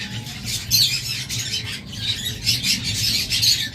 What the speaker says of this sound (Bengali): দেখুন এটা হলো অ্যালবিনো ফিশার রেড আই।